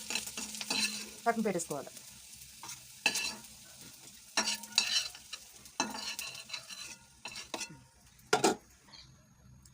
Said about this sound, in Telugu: మన నల్లేరు ముక్కలు ఇలా వేసేసుకొని కొంచెం మగ్గాక తీసేసుకొని